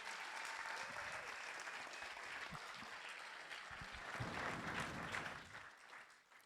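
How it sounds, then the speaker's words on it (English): A press-conference audience at a Gymkhana GRiD event applauds, a sustained wash of clapping that swells briefly before tapering off. "Ollie, round of applause for these"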